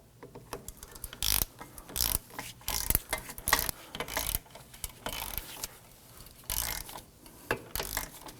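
A hand ratchet runs in the upper bolt during a rear CV axle replacement on a 2003-2014 Volvo XC90 3.2L inline-six: repeated close bursts of quick clicking pawl strokes with short pauses between them, and no talking.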